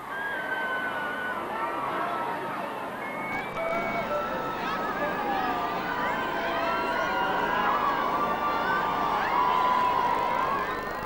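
A crowd outside Clarence House in London cheers and shouts, a continuous swell of many voices with whistles and high calls that grows louder toward the end.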